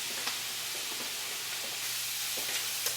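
Sliced peppers sizzling as they cook down in a pan, a steady soft hiss with faint crackles and small pops, no talking.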